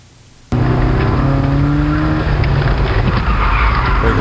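A Nissan autocross car at an SCCA regional event, its engine bursting in loud and close after a quiet moment, then holding a strong steady roar with shifting pitch under braking and throttle.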